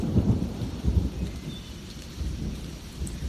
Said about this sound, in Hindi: बूंदें अभी भी टपक रही थीं